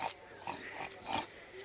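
Pigs grunting at an open farm day, a few short snorting grunts in quick succession at close range, with faint background noise between them.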